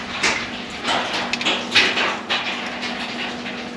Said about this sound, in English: that's acorns falling out of my oak tree onto the carport roof.